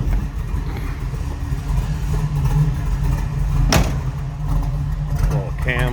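A 1969 Chevrolet Camaro's 6.0 V8 idles low and steady, its deep, throaty exhaust holding a constant rumble with one brief sharp knock partway through.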